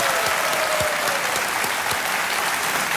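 Loud, sustained applause from a studio audience for comedian Kapil Sharma, a thick wash of many hands clapping evenly throughout.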